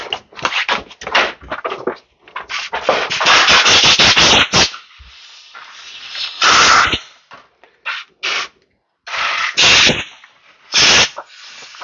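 Brake cleaner sprayed through the carburetor of a 1970s Honda CR125 Elsinore motocross bike, a series of loud hissing aerosol bursts of varying length, several short and a few sustained, with rustling handling noises between them.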